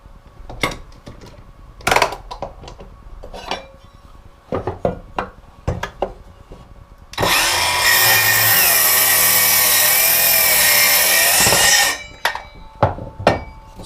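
A Milwaukee M12 2530-20 cordless circular saw rips through an old, dense 2x4 in one loud, steady whining cut of about five seconds, with scattered knocks and handling clatter from the wood before and after.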